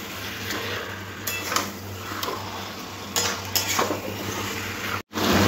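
Marinated chicken being stir-fried kosha-style in a pan over medium-low heat: a low steady sizzle with repeated clinks and scrapes of a spoon against the pan, ending in a brief dropout.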